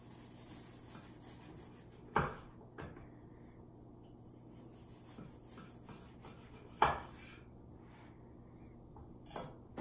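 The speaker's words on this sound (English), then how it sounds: "So we're going to take a nice slice of our banana cake." Knife slicing through a chocolate and walnut banana cake, faint soft sawing with two or three sharper knocks as the blade meets the board, quiet and close.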